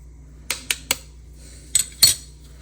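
Eggs cracked against a bowl while making pumpkin spice baked goods: several sharp clicks and taps close by, three quick knocks then two more, with no talking.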